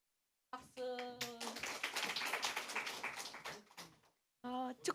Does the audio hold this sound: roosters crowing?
no